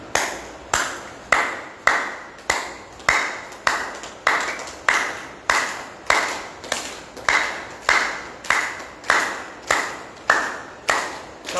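A group clapping in unison during a yoga class, a steady rhythmic series of sharp, loud claps, roughly two per second, each decaying quickly, continuing evenly with no talk.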